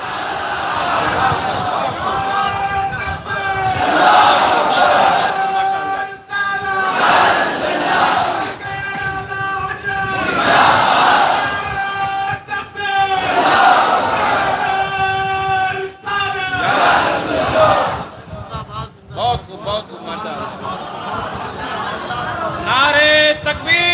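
A large religious gathering chanting Nara-e-Takbir and other slogans in unison, loud call-and-response bursts that rise and fall in a regular rhythm, with a leader's voice between the crowd's replies.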